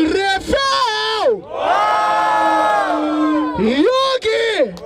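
At a rap battle in Barueri, São Paulo, a crowd roars with cheering, whoops and long drawn-out shouts in loud, rising and falling waves.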